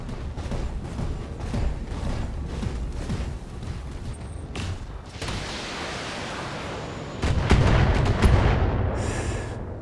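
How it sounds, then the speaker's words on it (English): AC-20 cannon fire in the video game BattleTech: a series of heavy booming blasts and explosions, some clustered rapidly, with a louder burst of impacts near the end, no voices present. "Gigantic cannon."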